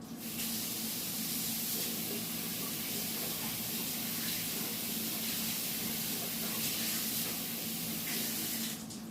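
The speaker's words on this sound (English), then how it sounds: "Now I have to wash my hands again one more time" Tap water runs steadily while hands are washed at a kitchen sink during ground beef cooking, a continuous close hiss and splash that holds at one level from start to finish with no talk.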